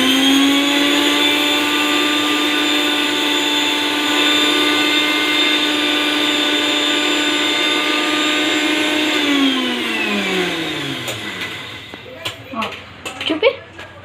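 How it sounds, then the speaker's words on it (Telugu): A Sujatha mixer grinder runs loud and steady with a high whine, then spins down near the end as clatter and handling noises follow. "సుజాత మిక్సీ కదా."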